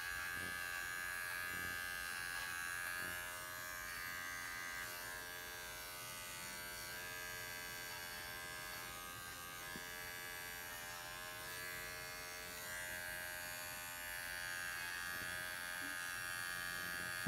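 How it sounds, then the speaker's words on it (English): Electric clippers buzz steadily and quietly the whole time while trimming a poodle's feet between the toes, the motor tone holding even with small dips as the blade moves. "I'm being careful to not take my clippers toward the webbing of the feet."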